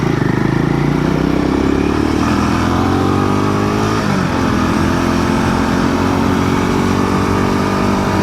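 A 2025 Royal Enfield Himalayan 450 adventure motorcycle engine drones loudly at close range while riding, pitch sweeping up and down through gear changes over constant wind rush.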